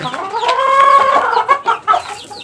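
Young chicks being given B12 in a coop, a close, loud run of rising cheeps followed by short chirps.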